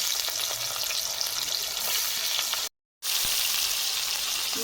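Soybean chunks fry lightly in hot oil in a pan used for frying vegetables, giving a steady, close, fairly loud sizzle that cuts out for a split second midway, then resumes unchanged.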